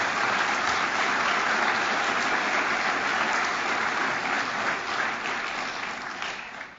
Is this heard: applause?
yes